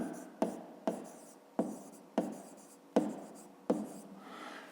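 Hand writing in a notebook during a fifth-grade maths exercise: a pen scratches in short repeated strokes, each opening with a sharp tap, about seven close, quiet bursts in an even rhythm.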